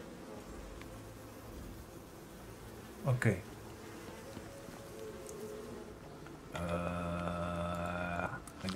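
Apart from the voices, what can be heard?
bees buzzing in the video game Icarus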